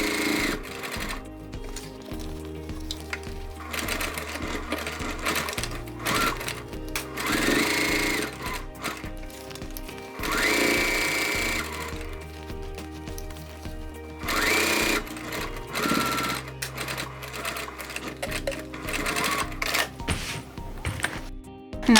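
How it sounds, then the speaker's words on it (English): A sewing machine stitches around the pocket of a crossbody bag in several close, loud bursts of rapid stitching, with short pauses and changes in speed between runs. "We're sewing around the pocket now."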